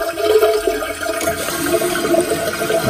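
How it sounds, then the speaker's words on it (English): A toilet tank refilling through a newly replaced fill valve, a steady rushing hiss of water running into the tank at close range. "So you can see when I press it down, the water turns on."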